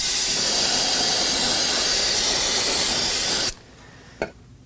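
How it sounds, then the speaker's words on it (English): A loud, steady aerosol spray of brake cleaner on a 2013-2019 Nissan Sentra brake hisses close by for several seconds, then cuts off abruptly, followed by a short faint tap. "get some brake cleaner, spray the area down"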